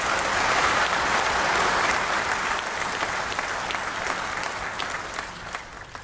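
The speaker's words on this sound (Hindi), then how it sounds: "मैं एक बार तालियों की गड़गड़ाहट से आपका सम्मान करेंगे।" A large audience at a national Panchayat awards ceremony applauds President Droupadi Murmu with steady, sustained clapping heard from amid the crowd, holding evenly throughout.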